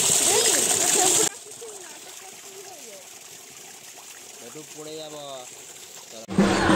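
Water splashes loudly for about a second during an outdoor bath at a water point in a forest. It then gives way to quieter outdoor ambience with voices nearby.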